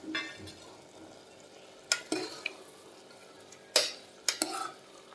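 Paneer being stirred into a biryani mixture in a pot gives soft scraping and gentle sizzling, punctuated by several sharp clinks of a spoon against the metal, close by and without talk.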